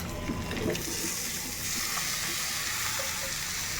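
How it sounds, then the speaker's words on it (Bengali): Fish frying in a pan, a dense, even sizzle that stays loud and close throughout with no pauses. "মাছটা এইরকম ভাজা ভাজা হয়ে গেলে আমি দিয়ে দিব"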